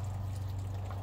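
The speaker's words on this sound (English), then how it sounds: "Hear the air going through it." Steady rushing hiss of air moving through a propane transfer hose while a vehicle's tank is filled, with a constant low hum underneath and no breaks for the full second.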